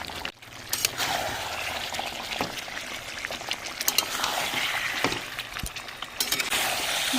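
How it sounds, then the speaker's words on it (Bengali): Warm water poured into a pan of chicken curry with chui jhal and fried potatoes, a steady splashing trickle running nearly the whole time, close and fairly loud, with no one talking. "মাংসটাকে ভালোভাবে কষানো হয়ে গেছে, এবার আমি জল দিয়ে দেবো।"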